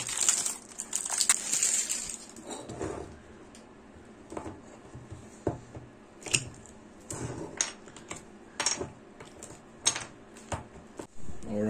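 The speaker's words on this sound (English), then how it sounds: "So both sides cured now, so let's unwrap this thing." A cured two-sided spoon lure mould being unwrapped by hand, with a burst of crinkly crushing and tearing at the start followed by scattered close clicks, knocks and rustles separated by quiet gaps.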